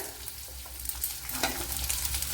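Carrot drops into a frying pan with onion for semiya upma. A lively sizzle follows, with spoon stirring and scraping in irregular bursts, close and clear, with no voices.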